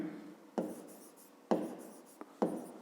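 A pen or pencil writes out a math problem on paper, giving quiet scratchy strokes with three sharper taps as new marks begin, close and faint, with no voices.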